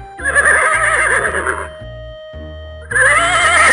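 A horse whinnies twice, loud and close, a shrill quavering neigh, then a pause and another over a steady rhythmic beat.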